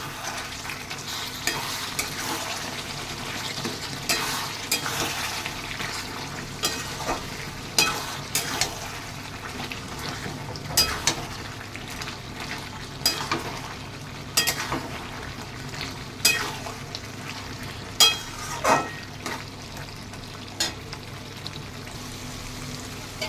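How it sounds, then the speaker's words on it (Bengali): Mutton pieces frying and sizzling in hot oil, with a steady sizzle and repeated stirring scrapes and clinks from a spoon in the pot; no talking. "দেখুন মাংসটা আমার কষানো হয়ে গেছে।"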